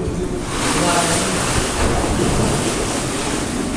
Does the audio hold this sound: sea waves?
yes